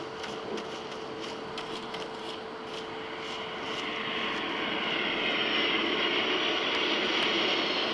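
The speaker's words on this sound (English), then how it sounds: "I hear spaceship, don't see it, but I hear it." Spaceship in the video game Starfield flying overhead, a broad steady engine roar that swells louder in the second half as it passes, with faint clicks over it.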